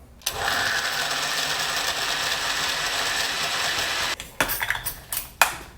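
A blender whirs hummus with its lid on, starting abruptly and holding a steady loud motor whine for about four seconds, then cutting off into a few short bursts and bumps.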